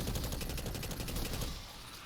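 Rapid automatic hip-fire from an exotic weapon in Destiny, a dense continuous burst of shots at steady loudness for about a second and a half before trailing off.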